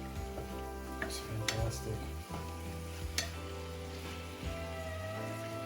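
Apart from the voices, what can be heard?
beef frying in a pan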